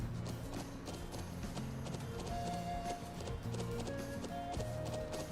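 Horse hooves clip-clop in the Trails of Cold Steel video game, a busy, continuous trot of clattering steps mixed with mechanical creaks and game music tones, moderately quiet throughout.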